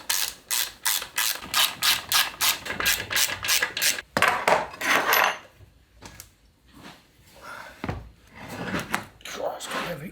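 A ratchet tightens bolts on a Land Rover Series gearbox during a rebuild, a rapid run of close pawl clicks followed by slower ratcheting strokes and metallic shuffling, with speech in between.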